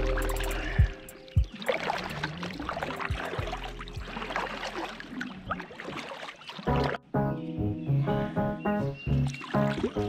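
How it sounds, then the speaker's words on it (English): Paddling a boat on water: irregular splashes and water noise run steadily, with a break near seven seconds, followed by clearer tonal sounds over continued splashing. "Are you paddling, Melvin?"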